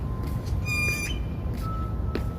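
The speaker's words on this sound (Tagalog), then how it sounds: "Ang ingay ng ibon." A bird squawks a few times over steady outdoor background noise, with short harsh calls near the middle of the clip.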